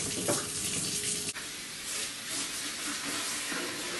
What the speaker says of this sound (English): these smell fine, so we're just rinsing them again and letting them dry.